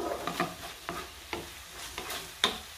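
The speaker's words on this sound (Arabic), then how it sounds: "صافي الخضره هنايا تشحرت ليا مزيان" Vegetables sauté in a pan with a soft, low sizzle, punctuated by several sharp clinks and scrapes of stirring at irregular intervals, close and fairly quiet.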